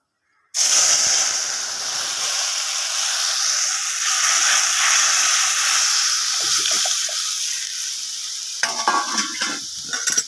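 Dal tempered with kalo jeera and dried red chillies, loud steady sizzling and hissing from the pot running almost continuously, with a few sharper stirring scrapes and bubbling bursts near the end and no talk.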